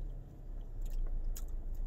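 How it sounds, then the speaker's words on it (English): Soft, wet chewing of banana close to the mic, faint squishy bites over a low background rumble, with no talking. "There's chewing."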